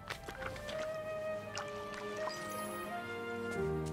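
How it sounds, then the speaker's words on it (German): Flower being watered in Disney Dreamlight Valley on Xbox Series X, soft watery splashing and dripping effects layered over a bright, sustained game music bed, moderately quiet with no talk. "Eine Blume gießen kann man immer mal."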